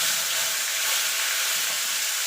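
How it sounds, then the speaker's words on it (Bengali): Two koi fish fry together in hot oil in a pan, cooked for a curry with cauliflower and potato, giving a loud, steady, unbroken sizzle throughout. "প্রথমে মাছগুলোকে ভেজে নেব। আমি দুটো দুটো করে ভাজবো।"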